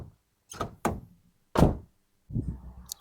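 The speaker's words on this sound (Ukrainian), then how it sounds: "А ще хочу порівняти, як закриваються двері" A Renault Megane 3 car door is swung shut four times, each a solid, close thunk with a short rattle after it, spaced apart with quiet gaps in between and no talking.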